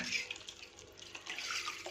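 Water pours steadily in a thin, splashy stream into butter paneer masala gravy, quiet and close, with no voices.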